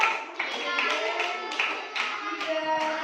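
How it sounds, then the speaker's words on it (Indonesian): A class of fifth-grade children at an elementary school in Bandung claps together for a group, a quick irregular patter of many small hands, fairly close, with soft kids' voices murmuring underneath. "beri tepuk tangan"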